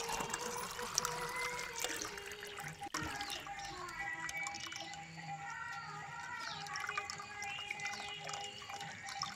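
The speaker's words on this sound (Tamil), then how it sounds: "நம்ம ரெடி பண்ணி வச்ச புளி தண்ணி மசாலால நம்ம இடிச்ச நண்டு வடிகட்டிக்கலாம்" Crushed crab in tamarind water masala is strained through a filter, giving soft close trickling, dripping and sloshing of liquid with a sharp knock partway through, faint overall, with a voice speaking quietly at times.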